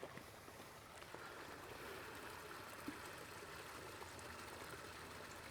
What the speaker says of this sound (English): We do have water going out of the spillway.